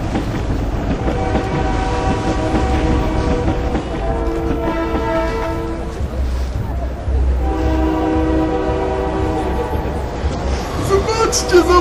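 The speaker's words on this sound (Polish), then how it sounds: "Trzeba zmniejszyć obroty lokomotywy." A locomotive rumbles steadily with a sounding horn, loud and continuous, while people talk over the rail noise.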